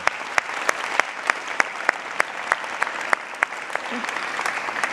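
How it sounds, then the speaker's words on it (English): A seated audience applauds its mic runners at the close of a disinformation talk, giving sustained dense clapping with a few sharp, loud individual claps standing out near the front throughout. "if we can have a big round of applause for our mic runners"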